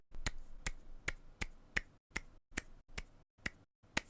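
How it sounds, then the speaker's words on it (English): Weak, half-hearted palm slaps of graduation-ceremony clapping, about a dozen sharp, thin claps in a steady, slightly uneven rhythm, close and quiet with silence between each. "So you end up doing this weak-ass palm slapping"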